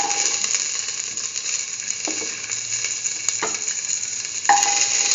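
Shallots frying in a pan, a steady hissing sizzle with a few scraping clicks and a sharper burst near the end, close and even.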